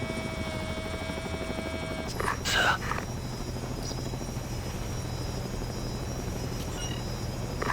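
A drone hovers in Ghost Recon Advanced Warfighter 2 with a steady buzzing rotor hum throughout, a few louder mechanical bursts early on, and a short spoken word over it.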